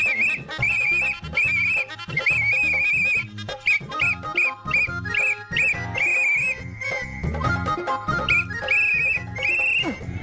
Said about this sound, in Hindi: सीटी क्यों बजा रहे हो?